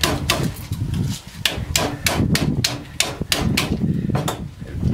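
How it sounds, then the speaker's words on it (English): A hammer strikes an AC compressor being scrapped for copper, knocking stuck glue loose: a fast, irregular run of loud metallic blows, about a dozen in five seconds, close up. "Sometimes I just hit it with a hammer."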